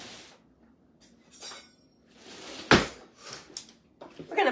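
Cutlery clinks in a home kitchen as a knife is picked out, a few scattered metallic and glassy taps with one sharp louder clink, close by among small rustles and pauses.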